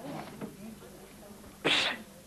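A single loud, sharp sneeze bursts out near the end in a café or bar setting, after a stretch of faint background talk and room noise.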